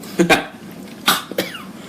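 Three sharp coughs close by, one early and two in quick succession later, with quiet pauses between them.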